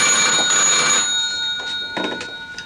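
A telephone rings with a bright, steady electronic trill through the first second, then fades to softer, broken pulses and short repeats before the clip ends.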